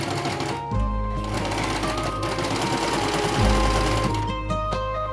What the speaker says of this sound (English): Sew all over the edges